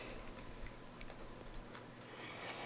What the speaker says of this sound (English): I'm going to quickly type in a password for my PC.